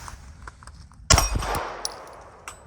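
A single gunshot from a Beretta APX A1 9mm pistol cracks out loud and close, with a short metallic ring and reverberation trailing off after it against quiet background noise.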